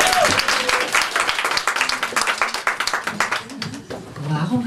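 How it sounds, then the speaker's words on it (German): An audience at a Beauty Spring Lunch at Käfer applauds, with dense clapping that thins into scattered claps before fading, as a voice speaks over it. "das ist Ihr Applaus"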